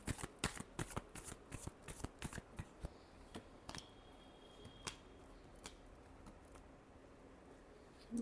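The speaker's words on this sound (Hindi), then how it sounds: "Last shuffle." Tarot cards shuffle close by in a flurry of crisp riffling snaps, dense at first, then thinning to a few soft, spaced flicks, with no talking over them.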